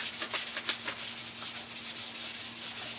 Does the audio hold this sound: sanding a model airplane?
yes